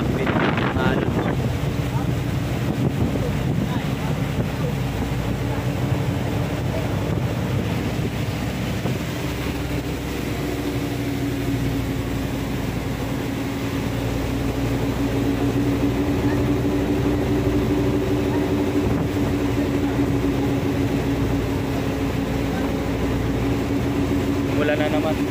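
Heavy wind roars against the microphone during a super typhoon at sea, with rough water and surf churning underneath in a constant loud rush, while a person talks over it.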